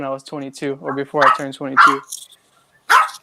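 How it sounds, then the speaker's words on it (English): A dog barks in a quick run of sharp, close barks, then goes quiet before one last bark, while a person speaks at the same time. "yeah, I'm sorry, that's my dog."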